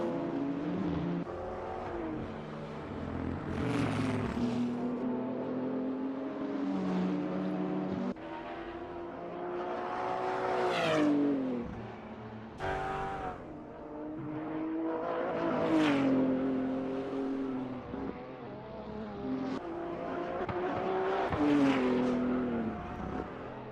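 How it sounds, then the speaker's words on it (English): A high-pitched GT2 race car engine screams past repeatedly during a Nürburgring 24 Hours race, revs rising and falling in loud sustained waves with no talking. "We hear the screaming engine of whatever that GT2 car"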